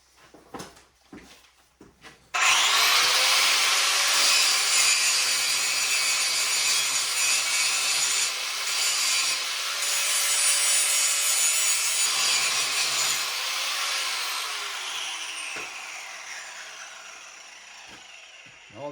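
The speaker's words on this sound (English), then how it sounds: "Now I need to take the paint off. Here, there's a grinder," Grinder stripping paint from metal while preparing for welding, a loud, harsh continuous abrasive rasp lasting over fifteen seconds after a few knocks, fading slightly toward the end.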